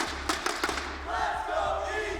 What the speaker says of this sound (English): Hear the crowd getting back into it.